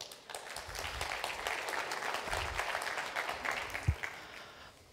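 An audience at a 2019 municipal forum mayoral panel claps to welcome Mayor Tucker, a sustained moderate round of applause that tapers off after about four seconds.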